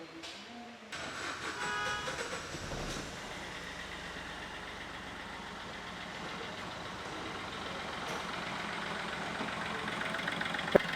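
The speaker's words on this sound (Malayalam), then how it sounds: "ഈ ഒരു എഞ്ചിൻ്റെ വിറയലും ശബ്ദവും ഒക്കെ ഇങ്ങനെയാണ് വരുന്നത്" A Chevrolet Beat three-cylinder diesel engine starts with a sudden onset and settles into a steady, moderately loud idle rattle with faint vibration, alone and unchanging for several seconds.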